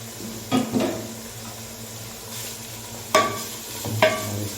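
Mutton with tomato, garlic and ginger fries in a karahi for white mutton karahi under a soft, steady sizzle, broken by a few brief stirring scrapes of a utensil against the pan.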